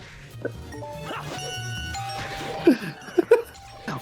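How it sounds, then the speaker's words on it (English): A stock doorbell chime from the Sonic Unleashed video game rings out in clear sustained tones, followed by a few sharp, close dog barks near the end. "I'll never understand why they chose a stock doorbell sound effect for that."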